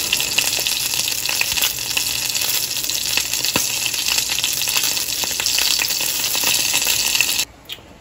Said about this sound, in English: throw a small piece in the cast iron and brown it up